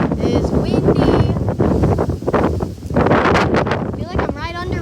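Strong derecho storm wind roars loud and steady close to the microphone, buffeting with gusts, while someone talks excitedly over it.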